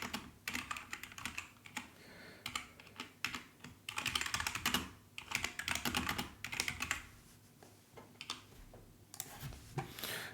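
Rapid typing on a computer keyboard while composing an email message, with dense clusters of close key clicks broken by brief pauses, and no talking.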